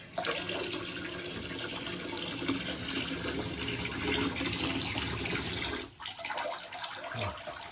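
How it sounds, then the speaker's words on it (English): Water gushes from a tap in a steady, loud hiss, briefly dipping near the end before flowing again. "Let's turn on the water."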